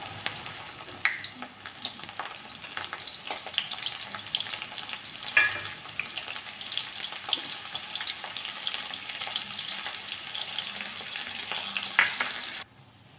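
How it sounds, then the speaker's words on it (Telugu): Garlic crackles as it deep-fries in hot oil, a continuous sizzle with scattered pops and light clinks from the pan, moderately quiet and without speech. "దీంట్లో కొన్ని ఎల్లిపాయలు కూడా డీప్ ఫ్రై చేసుకోవాలి."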